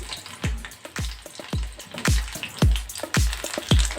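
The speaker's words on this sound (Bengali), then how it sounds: "গোল্ডেন ফ্রাইটা আমি একবার এভাবে তেলের মধ্যে দিয়ে একটু নামিয়ে আরেকবার আমি দেব" A prawn golden fry crackles in hot oil with loud, close bursts of spattering that recur about every half second over a busy sizzle.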